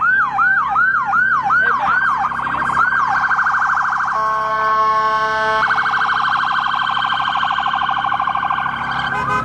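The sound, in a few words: police sirens going by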